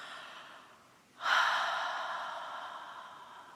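A prayer gathering breathes in unison: after a hushed moment, one deep, audible breath swells up and slowly trails off into quiet room tone.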